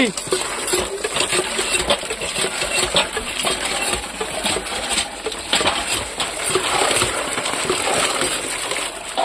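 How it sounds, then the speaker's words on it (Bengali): Potatoes being washed by hand in water, with steady close splashing and sloshing plus small knocks and clatters throughout, continuous and fairly loud. "সুন্দর করে আলুটা ধুয়ে নিচ্ছি"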